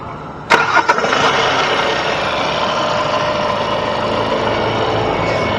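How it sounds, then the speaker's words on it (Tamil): A 2020 CRDI diesel car engine cranks and catches with a couple of sharp bursts, then settles into a steady, loud idle close by. "வா வண்டியோட இன்ஜின் சவுண்டை பார்த்தினா கேட்போம்"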